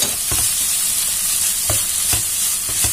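Mushrooms sizzle steadily in a hot gratin pan, with a few low thumps and stirring knocks scattered through the steady frying hiss.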